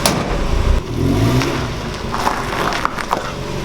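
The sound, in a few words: 1990 Mazda Miata engine running and revving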